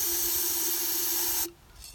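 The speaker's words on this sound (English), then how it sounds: "just spray a puddle in your snow globe and swirl it around until it makes cool shapes" Spray paint hisses into a snow globe in one loud, continuous burst lasting about a second and a half, then cuts off abruptly to near quiet.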